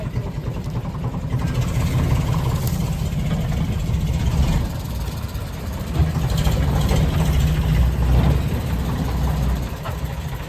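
A tractor engine runs loud and steady, a continuous low rumble that barely changes throughout.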